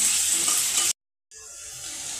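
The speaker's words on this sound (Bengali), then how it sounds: "একই তেলে আমি আলুগুলো হালকা করে ভেজে নেব।" Potatoes frying lightly in hot oil in a pan, a dense close sizzle that cuts out abruptly for a moment, then resumes a little softer.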